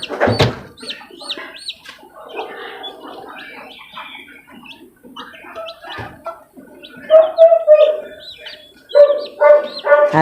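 Six-day-old hatchling chicks, some with barred plumage and some white, peep and chirp close by in a busy, overlapping chatter of high calls, with occasional louder cheeps and low clucking.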